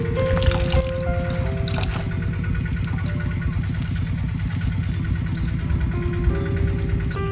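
Grated squash being rinsed in clean water, a steady close stream and slosh of running water with a constant low hum in the background and a few clatters near the start.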